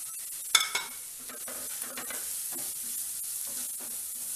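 Coriander powder, fennel, chili and turmeric stirred into sizzling sautéed onions in a pan for aloo gobi, a steady close frying hiss with a sharp scrape at the start and soft spoon scrapes throughout.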